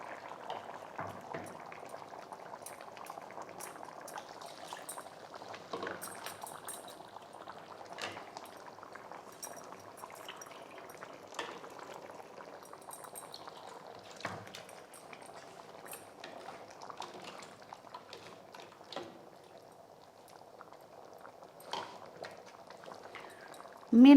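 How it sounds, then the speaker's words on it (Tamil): Fish curry with ground coconut, cumin and small onions bubbles steadily in a pot, a continuous soft simmering fizz with scattered pops, with a voice speaking at times. "மீன் போட்டதுக்கப்புறம் குழம்பு நல்லா கொதிச்சிருக்கு."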